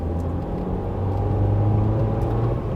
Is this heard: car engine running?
yes